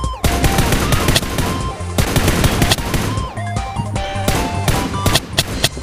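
Rapid automatic gunfire from PUBG: New State rattles out in loud, close bursts, with a short pause before the shooting resumes in quick strings of shots.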